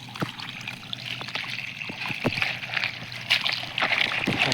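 Slippers being washed in flowing water from a gate outlet, a faint steady trickle with small scattered splashes and scrubbing knocks, no voices.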